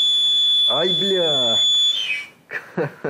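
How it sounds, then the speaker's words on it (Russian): A gas line at a Baltgaz 24 Turbo boiler start-up gives off a steady high-pitched whistle, several sustained tones held for about two seconds before cutting off, followed by short bursts of talk nearby. "Газ свистит."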